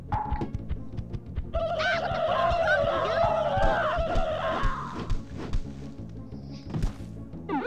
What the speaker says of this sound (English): Stupid turkeys!